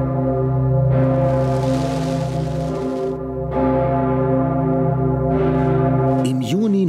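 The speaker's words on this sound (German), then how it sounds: "Dann wird die Pummerin erstmals angeschlagen." The Pummerin, the great bell of St. Stephen's Cathedral in Vienna, is struck for the first time after its consecration, booming deep, loud strikes every couple of seconds with a long ringing hum between them.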